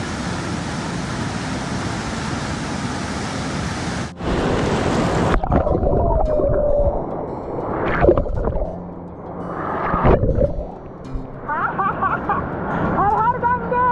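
The Ganges flows at Gangotri as a steady rushing of river water, loud and close for several seconds, then continuing beneath people talking nearby.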